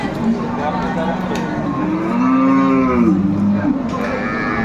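Cows and calves moo at a busy cattle market, several long, loud, drawn-out calls overlapping one another against a steady crowd murmur.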